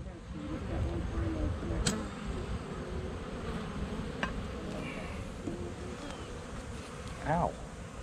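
A few honeybees buzz around hives, a soft, steady hum with individual insects droning past close to the listener, while a person talks quietly in the background.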